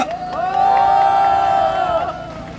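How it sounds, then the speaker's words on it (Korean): A crowd at a street march rally near Anguk Station cheers and shouts loudly, with rising whooping voices over a steady roar lasting a couple of seconds. "박수 한 번 더 부탁드리겠습니다."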